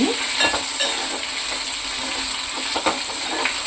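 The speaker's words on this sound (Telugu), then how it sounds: "ఎండు చేపలను వేసుకుని ఒకసారి ఫ్రై చేసుకున్నాం మళ్ళీ అలాగా ఆ ఉల్లిపాయలతో పాటు" Dried fish frying with onions in a pan, giving a steady close sizzle and crackle with scattered stirring scrapes throughout.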